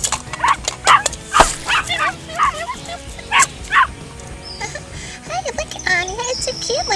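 Small puppy yipping and barking in quick, high bursts near by, with whimpers mixed in and a voice talking over parts of it.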